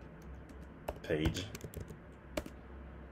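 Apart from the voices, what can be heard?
typing an Angular CLI command on a computer keyboard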